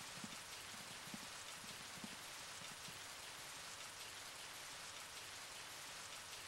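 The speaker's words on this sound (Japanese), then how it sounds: "雨の音しかしないもんね。" Steady rain in the PlayStation horror game Twilight Syndrome, a continuous hiss of rainfall with soft patters, heard alone with no music or voices.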